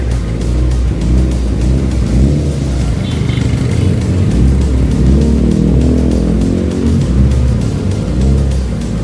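A drag race vehicle's engine revs loudly and continuously at close range, a dense throaty roar held throughout.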